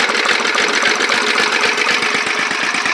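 Small engine of a Sears lawn tractor running just after a cold start with the choke on, a steady, loud, rapid chugging putter with even pulses throughout and no talk.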